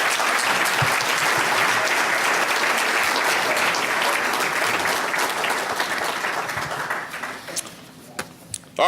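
An audience claps for inductees at a college athletic hall of fame ceremony. The applause is full and sustained for several seconds, then thins out, leaving a few scattered, separate claps at the end.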